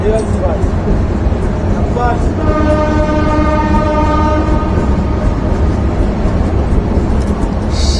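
The horn of the broad gauge Jahanabad Express sounds a long sustained blast over the rumble and clatter of the train pulling away from Singia railway station, with faint voices nearby.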